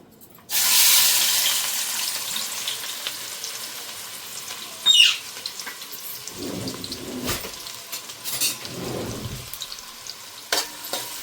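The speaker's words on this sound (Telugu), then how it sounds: "ఉల్లిపాయలు కొంచెం ఎర్రగా వేగనివ్వాలి" Onions hit hot oil in a kadai for a goat fat curry, setting off a loud, sudden sizzle that keeps crackling steadily, broken by a few clatters of stirring.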